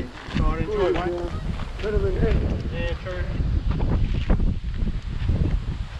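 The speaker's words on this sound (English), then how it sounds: "A bit windy." Wind blows outdoors on an evening walk with dogs off-leash, a steady broadband rush of gusts buffeting the microphone throughout while someone speaks briefly over it.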